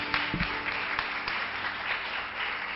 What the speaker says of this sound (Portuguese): Vamos aplaudir, gente.